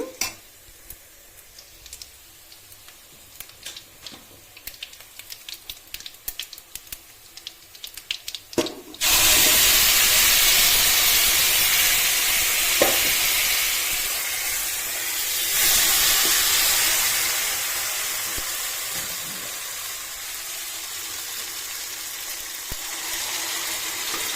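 Hot tempering in a pan bursts into a loud, steady sizzle as soured greens are tipped in, the hiss jumping up suddenly after a quiet stretch of faint stirring and clatter and staying strong, slowly easing, with occasional scrapes and no talk.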